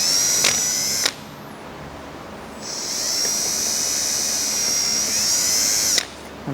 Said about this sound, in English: What I'm going to do is take my 1/8 inch drill bit. I'm going to drill a hole at either end.